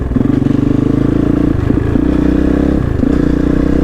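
KOVE Dakar rally motorcycle riding off, its engine loud and close with a steady throbbing drone, brief dips as it shifts and clattering mechanical noise over the top.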